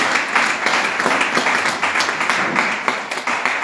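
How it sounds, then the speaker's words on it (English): A congregation applauds during a church worship service: dense, loud, sustained hand-clapping that fills the whole stretch evenly with no talking over it. "Clap the hands again for Jesus."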